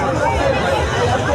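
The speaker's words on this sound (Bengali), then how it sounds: "যা ভিড়" A dense crowd bustles at a village fair, a continuous close hubbub of overlapping voices and chatter with no single clear speaker.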